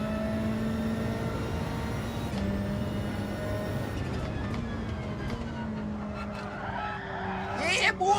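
A race car in a racing sim drones with a steady engine tone, then near the end a short tyre squeal breaks in as the handbrake locks the wheels into a skid.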